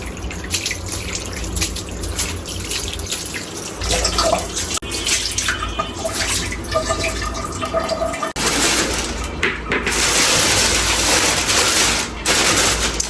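Running tap water rinses flour off a surface in a home kitchen, a loud, close, continuous splashing gush that shifts in intensity as things are moved under the stream.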